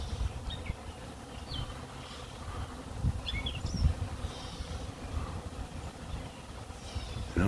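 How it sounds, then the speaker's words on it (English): Honey bees swarm thickly around a hive on a warm day, a steady low buzzing drone filling the scene with faint bird chirps scattered above it. "I don't know if you can see how many bees are here, but man, they are like everywhere."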